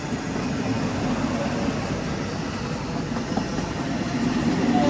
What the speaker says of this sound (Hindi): यहाँ पे वंदे भारत त्रिवेंद्रम वंदे भारत का क्रॉसिंग हो रहा है।